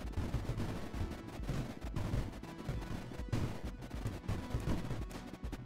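Anti-creep gunfire in a Creeper World strategy game rattles without pause, a dense, steady stream of rapid shots and impacts at constant loudness with no voices.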